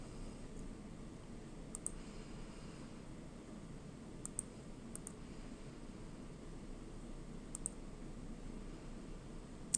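Computer mouse clicking on a document in crime analytics software, a few faint, sharp clicks, some close together in pairs, spread over a quiet, steady hiss.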